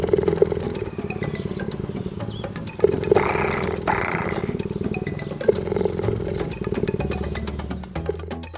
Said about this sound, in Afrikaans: En as jy mooi luister, kan jy hoor hoe sy purr.